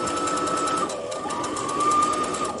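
A sewing machine runs steadily, basting a stretched knit neckband onto a V-neck bodice: a close, even mechanical whir with a constant hum, no pauses and no speech.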